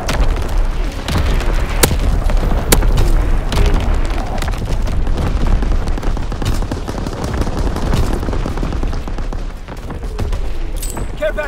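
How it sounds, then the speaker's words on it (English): A continuous barrage of booming artillery and crackling gunfire fills a Call of Duty: WWII battlefield, loud and dense throughout with no pauses, and faint voices now and then. "Firing primary battery."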